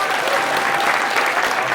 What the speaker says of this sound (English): and now clap.